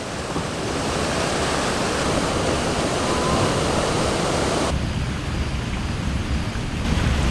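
Waterfall in the Grampians, a loud, continuous broadband rush of falling water, close and unbroken, with no voices.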